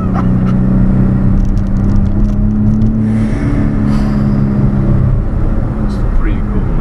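A 1991 Daihatsu Atrai turbo intercooler kei van lets off boost with a drawn-out whooshing hiss over a steady low engine drone, loud and close, with someone talking over it.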